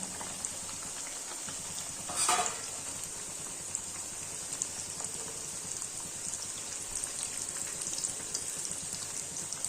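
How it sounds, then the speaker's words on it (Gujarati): Gujarati methi puris deep-frying in hot oil, a constant soft hiss and fine bubbling with one brief louder clatter near the start, no talk. "સૌપ્રથમ આપણે રાઉન્ડ શેપની જેટલી પણ ફરસી પૂરી બનાવીને તૈયાર કરી હતી તે બધી તળી લેશું"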